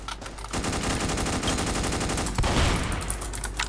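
Rapid automatic gunfire in the video game Fortnite, a dense sustained burst of shots running loud and close throughout with a sharper flurry near the end, no talk over it.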